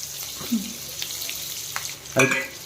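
Onions and green chilies fry in a pan for Andhra-style gongura curry, with a steady close sizzle broken by spatula knocks and a short voice-like burst near the end.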